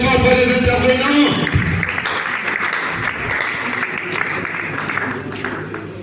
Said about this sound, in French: Est-ce que vous pouvez acclamer cette fois pour les intervenants?